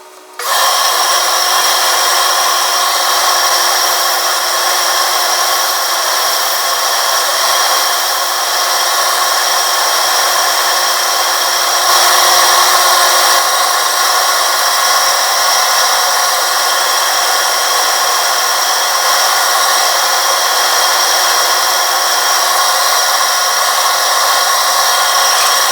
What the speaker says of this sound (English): I have the blank set up in my lathe. I'm going to turn it down